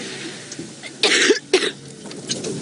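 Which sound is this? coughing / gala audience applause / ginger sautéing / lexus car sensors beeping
coughing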